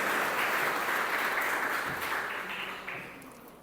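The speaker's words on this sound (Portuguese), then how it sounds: "Você pode aplaudir por essa palavra?" A church congregation applauds after a sermon passage, a dense wash of many hands clapping that fades gradually toward the end, with no voices over it.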